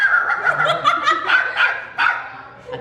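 A voice imitates a small dog with rapid, high-pitched yips and snickering whines in a quick, close burst that trails off toward the end.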